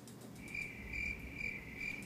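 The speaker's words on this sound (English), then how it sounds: "We'll insert the sound of crickets here." Crickets chirp in short, evenly spaced bursts, about four pulses over a quiet, faint background, with no other sounds or voices.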